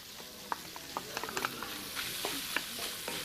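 Onion sizzling in browned Italian sausage pork fat in a soup pot, a soft crackling fry broken by sharp clicks and taps from a spoon, close but low in level, with no voices.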